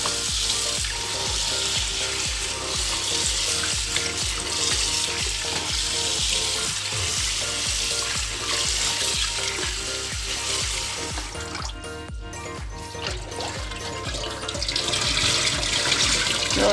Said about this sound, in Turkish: Aşurenizin kararmasını istemiyorsanız buğdayınızı iyice yıkamanız gerekiyor.